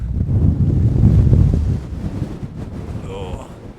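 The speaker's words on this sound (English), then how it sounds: "I've got to try and shelter from the wind" Strong wind roars over the microphone at an exposed hilltop camp at Loch Skeen, a heavy low buffeting rumble that gusts and then eases slightly. A faint voice is briefly heard near the end.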